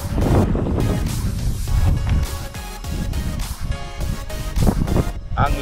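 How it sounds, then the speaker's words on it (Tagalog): Strong wind buffets the microphone on a beach during summer fishing in Qatar, a loud rumbling gusty roar that continues throughout with possible surf beneath. "Ang lakas ng hangin."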